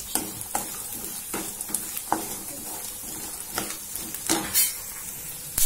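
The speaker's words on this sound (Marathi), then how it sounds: "शेंगदाण्यांचा असा आवाज यायला लागला" Peanuts roast in a pan for Kolhapuri bhadang, a dry rattling sizzle with repeated scraping stirs and clinks of the spoon against the pan, close and steady.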